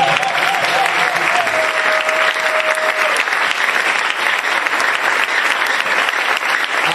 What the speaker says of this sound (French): Acclamez le Seigneur pour ça.